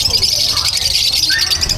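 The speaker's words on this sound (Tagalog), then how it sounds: "Daming ibon dito." Birds call at a pet market, a dense, continuous chorus of high chirps and squawks that is loud and close, running through the whole brief clip.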